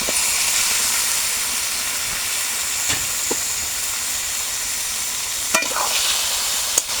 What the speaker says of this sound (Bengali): এই যে মাংসটা কড়াইতে দিয়ে দিবে।